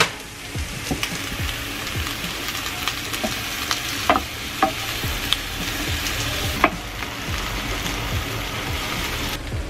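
Mushrooms and spinach sizzle in butter in a pan, a steady crackling fry with occasional clicks and light stirring scrapes, close and fairly quiet, with no talking.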